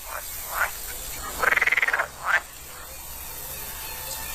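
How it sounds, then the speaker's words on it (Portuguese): Common frogs and green frogs croaking in a shallow spring pond: a few short croaks and one rapid rattling call, fairly near, over quiet background hiss. "juntam-se rãs comuns e rãs verdes"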